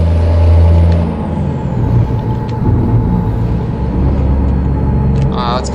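Loud, sustained low rumble of a Peterbilt 380 truck driving through a tunnel in a driving video game, its engine brake popping and droning steadily, with a brief higher burst near the end.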